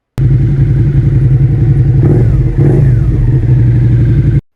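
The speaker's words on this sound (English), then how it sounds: "he changed out the muffler to the Two Brothers muffler. Give you a sound with that real quick." A Suzuki SV650X motorcycle fitted with a Two Brothers aftermarket muffler runs loud and close, with a deep steady exhaust drone and a brief rev blip midway through.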